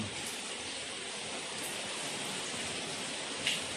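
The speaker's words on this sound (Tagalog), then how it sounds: "pang ika-10 araw na dire-diretsong ulan dito sa amin sa Baguio City" Steady, continuous rainfall in foggy Baguio City, Philippines, on a tenth straight day of rain, a dense even hiss with no breaks and a faint brief patter near the end.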